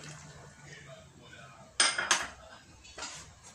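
A lid set onto a pot of Ecuadorian seco de pollo, two sharp metallic clanks in quick succession followed by a softer clink, over quiet background kitchen sounds.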